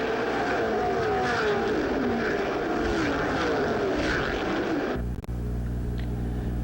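Stock race cars from 1986 ARCA racing at the Illinois State Fairgrounds roar together on the lap 65 restart, a loud, dense engine drone with rising and falling pitch that cuts off abruptly into a low steady hum.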